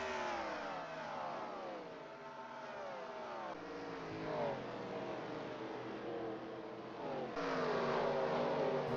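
NASCAR race car engines roar in a racing video game, several cars howling at high revs with sweeping pitch rises and falls as they pass and chase one another, loud and continuous throughout.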